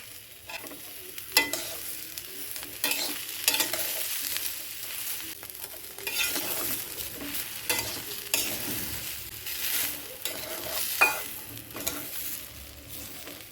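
Vegetables with capsicum and green chillies stirred in a pot without oil, a steady soft sizzle under repeated scraping strokes of a spoon, close and fairly quiet throughout.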